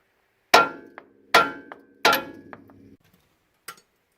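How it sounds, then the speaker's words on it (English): Three sharp metallic hammer blows on a Honda CRX Del Sol suspension control arm part, evenly spaced and ringing briefly, followed by a lighter tap; loud and close, no talking. "we can just smack it with a hammer and this will pop out"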